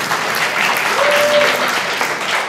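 Studio audience applause on a Russian-language evening talk show, a steady wash of clapping from a crowd, full and continuous throughout.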